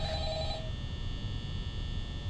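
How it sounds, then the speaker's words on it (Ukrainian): A telephone rings in the video game Five Nights at Freddy's 3, a short electronic ring at the start that fades out over a low, steady hum. "А знову чувак до мене дзвонить, так?"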